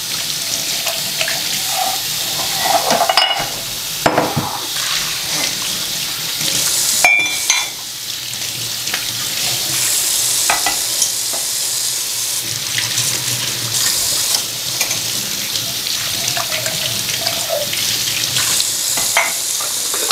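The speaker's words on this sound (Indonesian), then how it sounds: "jadi ini aku mau nyuci piring-piring sama gelas-gelas" Dishes and glasses are washed under a running kitchen tap, with a constant stream of water splashing into the sink and occasional sharp clinks and knocks of crockery, loud and close.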